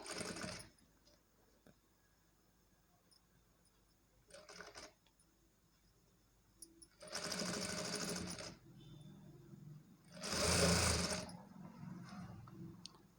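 A sewing machine stitches along a folded shape belt in two or three separate bursts, with quiet handling sounds in between. The second and third runs are the loudest and longest.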